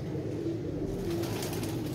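A pigeon coos softly in a low, steady murmur over a continuous background hiss, with no talking.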